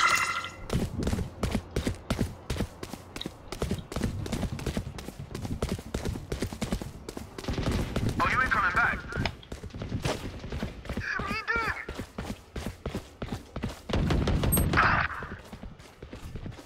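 A drum gun in Valorant fires long, rapid automatic bursts of sharp, evenly spaced shots that carry through most of the stretch. Brief voices speak between and over the shooting.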